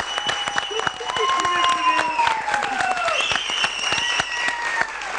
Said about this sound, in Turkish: Burada alkışlar Cem Bey'e tabii biz değiliz yani